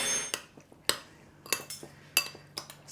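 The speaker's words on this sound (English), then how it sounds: "We'll just stir this up a little." A spoon stirring gnocchi in sauce in a pot, giving five or six sharp metallic clinks and scrapes at irregular intervals over a quiet kitchen background.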